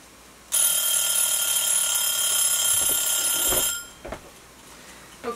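A kitchen timer alarm rings steadily and loudly for about three seconds while sweet pickles are being canned in a tiny house kitchen, then cuts off, leaving faint clicks and handling noises.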